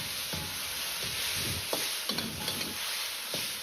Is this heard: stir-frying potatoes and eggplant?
yes